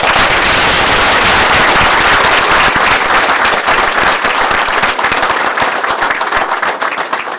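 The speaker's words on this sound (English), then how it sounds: "I think we should give them an extra round of applause" Large audience at a January swearing-in ceremony giving an extended round of applause for first responders and law enforcement, dense loud clapping filling the room and tapering slightly toward the end.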